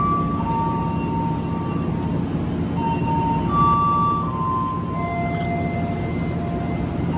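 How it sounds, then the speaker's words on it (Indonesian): The Airlangga passenger train leaves Cikampek station at night with a continuous, heavy rumble. Drawn-out squealing tones from the wheels or brakes drift over the rumble, and the sound stays steady and loud throughout. "kereta api Airlangga diberangkatkan kembali dari stasiun Cikampek"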